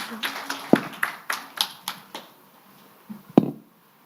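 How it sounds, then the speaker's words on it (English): A few scattered, uneven claps from an audience at a climate-week policy case presentation in Dhaka, greeting a presenter. Sharp isolated hand claps spread over a few seconds, with faint speech in the background. "A big clap for our presenter, please."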